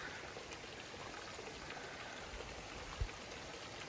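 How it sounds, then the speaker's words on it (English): Seasonal stream on the Colorado Trail flowing in a steady, soft rushing wash, faint and continuous, with one brief low bump near the end and no talk. "So this is the seasonal stream."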